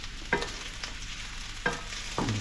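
Meatballs brown in a pan with a steady sizzle, and three clear scraping stirs cut through the frying noise.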